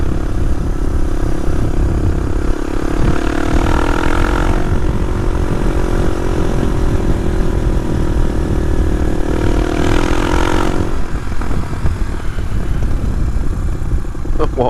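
A Suzuki DR250S motorcycle fitted with a Dominator R exhaust idles loudly up close, with two distinct revs rising and falling between steady throbbing idle.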